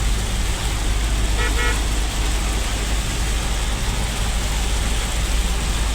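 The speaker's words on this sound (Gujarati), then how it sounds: "હજી એવો ને એવો વરસાદ ચાલુ જ છે" Heavy rain pouring onto a flooded highway, a loud, constant wash of noise from nearby, with a faint vehicle horn tooting briefly near the start.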